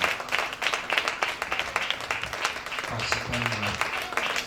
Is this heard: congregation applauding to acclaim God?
yes